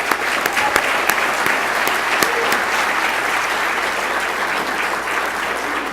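An audience at the World Stem Cell Summit 2015 awards ceremony gives a steady, dense round of applause, many hands clapping together at an even level for the whole stretch.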